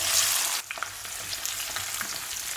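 Spices and onion sizzle in oil while tempering for a Chettinad white vegetable kurma, a loud hiss that drops suddenly, then settles into a softer steady crackle.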